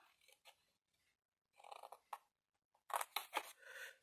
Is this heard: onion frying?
no